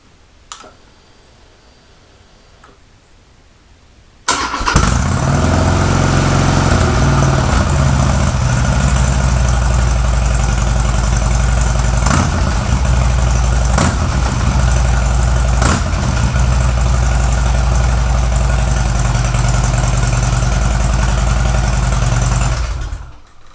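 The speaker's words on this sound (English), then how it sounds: "first time I've actually been able to hear this thing rev other than idle. And it sounds pretty healthy actually" Harley-Davidson Street Glide motorcycle engine starting after a quiet moment, then a loud, steady low rumbling idle close by for about twenty seconds, with a few brief blips in pitch before cutting off.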